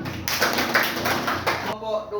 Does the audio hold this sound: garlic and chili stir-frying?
no